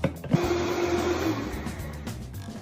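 A blender whirs steadily as it purees diced mango, cold water, coconut palm sugar or maple syrup, toasted coconut and a pinch of salt, a close, constant motor drone after a brief knock at the start.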